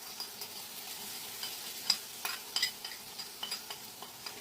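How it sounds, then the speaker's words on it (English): Spices stirred into onions frying in a pan while cooking precooked lentils, a faint soft sizzle under light scraping strokes of a spoon, with a few small clinks, no talking. "I'm going to add in my spices in the onions."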